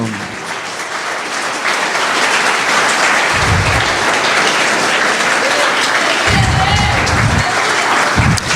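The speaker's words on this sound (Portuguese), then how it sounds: "Aplauda o Senhor, porque Ele é digno." A church congregation applauds during a worship service, loud continuous clapping filling the room with low rumbling thumps at moments, steady throughout with no clear speech.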